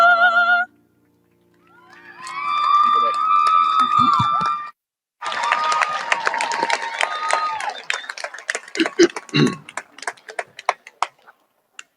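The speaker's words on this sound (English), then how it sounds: "One more round of applause for them" Graduation crowd applauding after a live song, a dense wash of clapping and cheering rising in waves and thinning into scattered claps near the end, with singing and voices heard before it.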